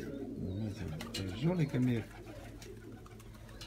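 Armenian tumbler pigeons coo in soft, low rolling phrases close by, with someone talking over them.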